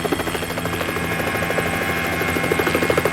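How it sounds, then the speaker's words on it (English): Loud, steady helicopter rotor roar with a rapid rhythmic chop, close and continuous throughout. "the roar of the rotor blades"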